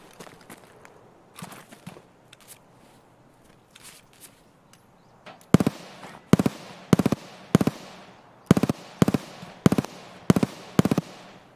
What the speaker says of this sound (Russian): это на дропе, походу, стрельба уже